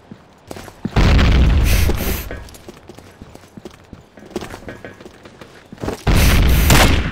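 Explosions from grenades in the first-person shooter Combat Arms on an oil rig map, two loud booming blasts about five seconds apart with rumbling tails, surrounded by quieter gunfire and game noises.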